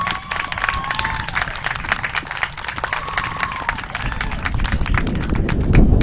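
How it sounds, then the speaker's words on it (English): Crowd applauding volunteers at an NCAA Southeast Regional college softball game, scattered outdoor clapping over open-air stadium noise, with a faint tonal whistle and a rumble building toward the end. "How about a round of applause for them?"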